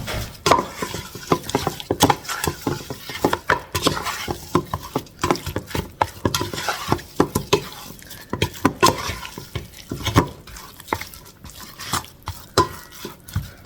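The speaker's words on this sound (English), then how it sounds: "I'm just going to move all around like this so it all gets coated evenly" Chicken pieces and jacket potatoes are tossed and stirred in a wet marinade, giving a continuous run of close, squelchy, irregular shuffling with frequent light knocks of a utensil against the bowl and no voices.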